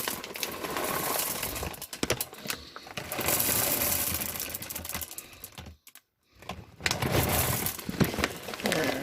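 Chocolate chips pour into lava cake batter in a home kitchen, a dense, continuous patter of small hard pieces rattling close to the mic for several seconds, with one brief gap before the clatter resumes.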